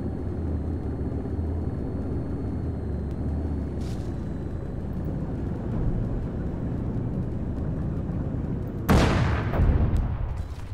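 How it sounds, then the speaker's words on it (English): A missile strike in Arma 3 on Altis lands as a sudden loud boom near the end, cutting through a steady low roar of vehicle engine and wind. "A missile hit."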